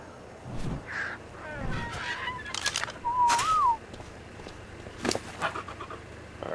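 Birds in ARK: Survival Evolved give honking, goose-like calls and a rising warbled cry, with panting, breathy sounds and a few sharp bursts mixed in at moderate volume.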